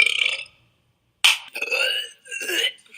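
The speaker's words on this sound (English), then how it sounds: "Sorry, I just burped a little bit." A young woman burps loudly and alone, with several stretched, croaky belches following one another after a brief pause.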